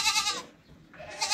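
A French Alpine goat on a farm bleats twice, close and loud, two wavering nasal calls separated by a short pause, with no talking over them.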